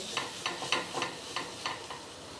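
Oil heating in an appe pan on a gas stove, a soft sizzle broken by a run of regular light taps or scrapes, close and fairly quiet with no speech.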